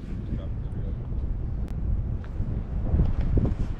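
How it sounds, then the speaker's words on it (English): Strong gusting wind on a mountain ridge in the Smokies buffets the microphone in a constant low roar that swells louder toward the end. "as it's really windy up on the ridge"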